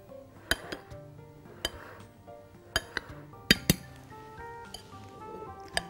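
Cocoa and baking powder being mixed in a bowl for chocolate pound cake, with sparse sharp clinks of a utensil against the bowl, loud and near, separated by quiet gaps.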